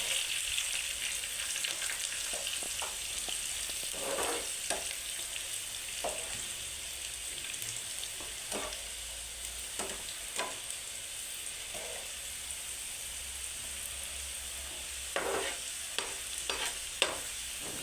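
Bitter gourd pieces frying in oil with curry leaves while being turned, with a continuous low sizzle broken by scattered scraping stirs and crackles, close by and without speech.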